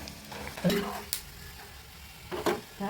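Peanuts cook in a pan for Diwali snacks, a low sizzle with a few sharp scraping stirs and clinks of utensil against metal, close by.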